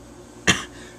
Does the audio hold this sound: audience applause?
no